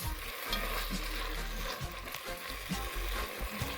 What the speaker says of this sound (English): I'm just going to let this cook a little bit so the tomato can release the juices